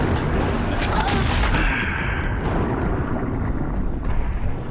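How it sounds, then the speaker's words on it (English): A tank bursts in the game Horizon Zero Dawn with a loud, heavy, rumbling boom that lingers in a dense roar throughout. "One tank burst and the other one's badly damaged."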